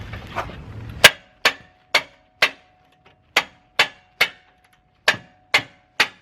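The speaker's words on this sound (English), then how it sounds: "I'm probably gonna hit it with a hammer if it's too tight, with a mallet to start loosening it up" A mallet strikes a Jeep's bumper bolts to loosen them: about ten sharp metallic clangs at an uneven steady pace, close and loud with silence between blows, a little low rumble before the first hit.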